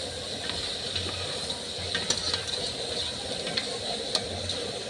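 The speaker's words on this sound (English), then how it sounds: "I just want to fry it with tomatoes, only tomatoes and onions, and the spices I have put." Onions and tomatoes fry with spices in a pan, giving a steady close sizzle and hiss with scattered small crackles and pops throughout.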